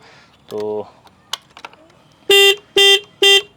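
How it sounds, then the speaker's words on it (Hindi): Three loud, sustained honks from a KTM Duke 250 motorcycle horn, evenly spaced, preceded by a shorter lower beep and a few small switch clicks. "तो ये आपका हॉर्न है।"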